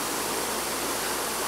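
Steady broadband hiss of a homemade evaporative cooler misting water past spinning fan blades, a continuous even rush like a small waterfall, moderately loud with no pauses or talk.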